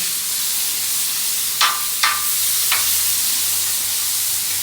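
Corn charring in a pan for tequila lime nachos gives a steady soft sizzle, broken by three short scraping stirs close by; no one talks.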